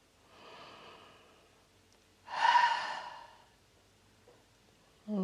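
A slow, deep yoga breath: a soft drawn inhale followed by a louder, fuller exhale that fades out, near and alone, with a brief sound at the very end.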